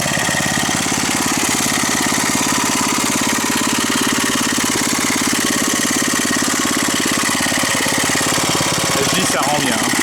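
A restored motorcycle engine runs close by and loud, holding a steady, rapid throbbing idle for the whole stretch with no change in pace.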